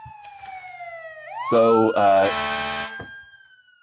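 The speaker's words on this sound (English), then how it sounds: "There's the siren." A police-style siren wails as an inserted sound effect for a food truck segment, its tone sweeping up and then holding steady and loud for a couple of seconds before cutting off, with a brief spoken word nearby.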